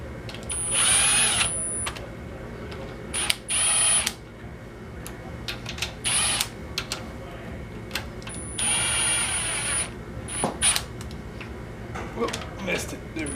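A power tool tightens timing cover bolts on a Mazdaspeed engine in short whirring bursts of about a second each, repeated several times, with someone talking between the runs and light clinks of parts.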